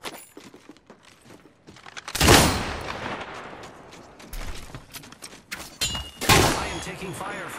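Gunfire in the video game Apex: bursts of rapid shots with loud peaks near the start and end of the stretch, mixed with mechanical clicks and thuds and some voices.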